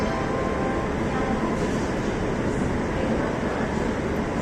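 Ranchi–New Delhi Garib Rath express hauled by a WAP-7 electric locomotive, heard from inside a coach as a steady loud rumble and roar of running rail travel without a break.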